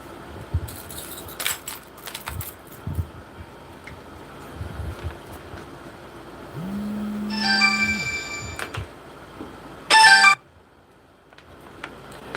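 A phone rings indoors with a short electronic tone burst around the middle and a brighter, louder burst near the end, over quiet background rustling.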